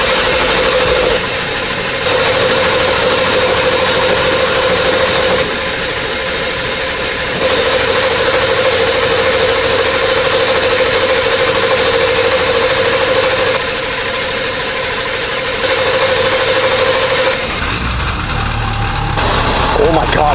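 A Ford 7.3L Powerstroke diesel engine with an aftermarket high-pressure oil pump cranks slowly, then idles steadily with a low rumbling drone and a sustained mid-pitched whine, fairly loud and close, before cutting off near the end.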